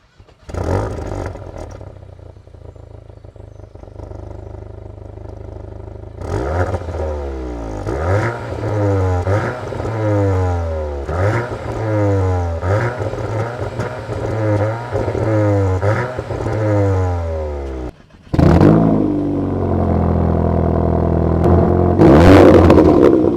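A Cupra and a Golf Clubsport fire up and rev repeatedly, loud, close engine blips rising and falling in a regular rhythm, followed by a sharper, louder burst at the end; no voices.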